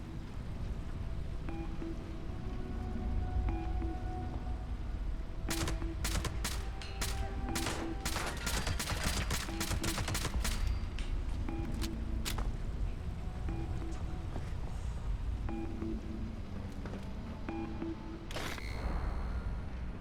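Gunfire rattles out in Fallout 76, with a dense burst of rapid sharp shots clustered near the middle and a few isolated cracks before and after over a steady low game hum.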